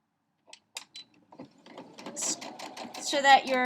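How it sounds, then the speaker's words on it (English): Sewing machine stitching quilt fabric for star points, building from scattered mechanical ticks into a steady whirring run near the end, with a voice talking over it. "I'm going to start on this side and sew just to the outside of that line"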